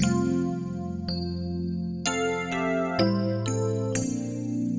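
Sustained electric piano chords from a Yamaha Genos 2 keyboard, 80s tine voice with deep chorus, lush wavering shimmer, shifting to new notes every half second or so, played alone.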